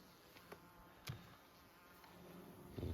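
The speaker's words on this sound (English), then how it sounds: "Plenty of bees there." Bees buzz steadily at syrup feeders beside a hive, a faint continuous insect drone with a few brief louder knocks and rustles nearby.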